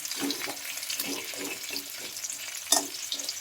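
Fish head and cabbage fry in a pan while a spatula breaks them up, making a close, moderate sizzle. Repeated scraping and stirring strokes sound through it, with one sharper clatter near the end.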